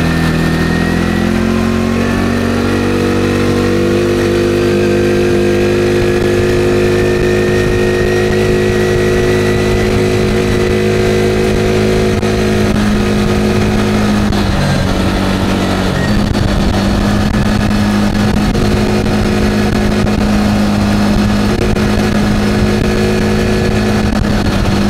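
A homemade tractor engine runs loud and close with a rattling, tuk-tuk-like putter, holding a steady idle-to-midrange rhythm for the whole stretch, with slight revs and shifts midway.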